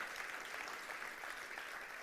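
Church congregation at a Pentecost sermon claps in a continuous, even wash of applause, faint and somewhat distant, with no speech over it.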